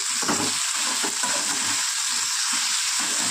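Vegetables for a spinach-and-prawn curry, seasoned with salt, sizzle steadily in a hot pan. A constant bright hiss carries faint stirring scrapes and no voices.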